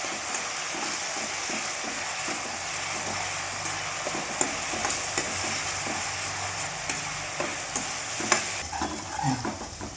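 Onions fry in a pan for Andhra fish pulusu, a constant close sizzle broken by the scrape and clatter of a spoon stirring them at irregular intervals.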